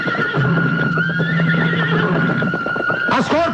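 A horse neighs loudly and close, a long whinny with rising and falling pitch, with hoof clip-clop and people shouting excitedly around it.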